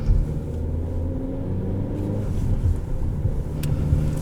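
A 2014 Chevrolet Cruze with a manual gearbox drives along, its engine giving a steady low rumble and drone from inside the cabin, slightly swelling as it pulls, with no talking.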